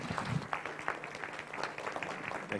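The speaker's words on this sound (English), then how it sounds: "Please join me in giving Dr. Jack Miles a warm Inside Edge round of applause" An audience gives a speaker a round of applause, faint and steady clapping that carries on evenly throughout, with no talk over it.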